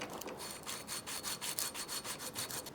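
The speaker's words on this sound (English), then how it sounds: "I cleaned up the jaggedness with the file, and then I sanded it smooth with some sandpaper on the file" Sandpaper wrapped around a file rubs a katana guard smooth in quick, regular back-and-forth strokes, a dry rasping scrape repeating about four times a second, close and fairly quiet with no talking.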